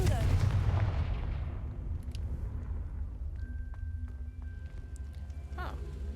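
A Confringo blasting spell detonates in a Hogwarts video game: a loud, booming burst that rolls into a long low rumble and fades over several seconds, with faint scattered clicks and tones afterward.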